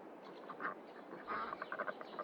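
A few ducks quacking in a Farming Simulator 22 farm setting, with short repeated calls that come in bursts over faint background hum.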